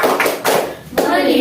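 A classroom of children clapping along to a chanted class routine, with a few loud bursts of hand claps mixed with their voices, close and energetic.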